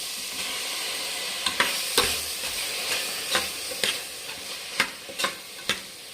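Tomato stir-fries in a pan for menthya bath, with a constant sizzle broken by repeated sharp spatula scrapes and knocks at an uneven rhythm.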